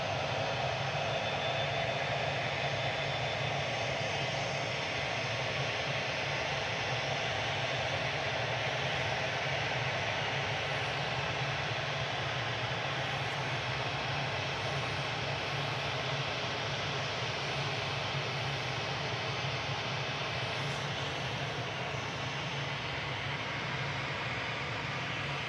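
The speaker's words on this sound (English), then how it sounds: "This is A6EOQ departing back to Dubai with flight 22 after the Ryanair." A6EOQ, nicknamed the Beast, departs Manchester Airport for Dubai, giving a sustained, loud, broadband jet roar that holds steady for the whole stretch, with no talk.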